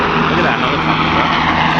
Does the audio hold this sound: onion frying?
no